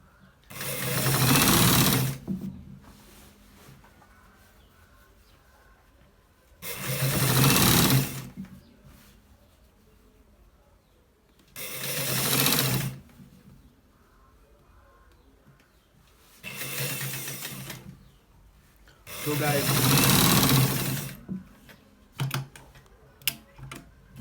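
A sewing machine stitching a collar shirt runs in five separate loud bursts of rapid whirring, each a couple of seconds long, with quiet pauses and small handling clicks between them.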